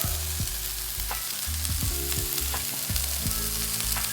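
Cooking oil sizzles in a hot pan with a steady, close frying hiss and occasional soft knocks of stirring, no talk.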